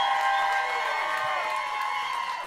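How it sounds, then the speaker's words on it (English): A live studio audience applauds and cheers for comedian Josh Johnson, a steady wash of clapping and crowd noise at even loudness throughout with no pauses. "Start clapping for Josh Johnson"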